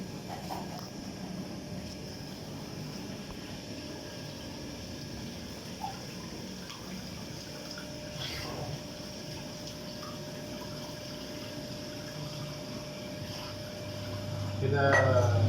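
Universal washing machine with a replaced drain pump, running a spin cycle: a low steady motor hum with faint water gushing and pump sounds, rising louder near the end.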